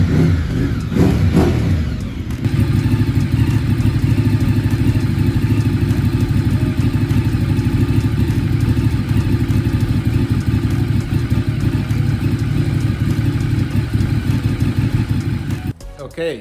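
A Ducati superbike engine idling while it warms up, a loud close steady mechanical rumble with a rattling clatter that runs almost the whole time after a short start, then cuts off near the end.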